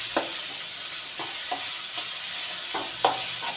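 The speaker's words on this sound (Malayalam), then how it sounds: "ഒന്നുകൂടെ നമുക്ക് ഇളക്കി കൊടുക്കാം." Spinach greens frying in a pan are stirred, a steady close sizzle broken by repeated scraping strokes of the spoon at a slow, even rhythm, with no voices.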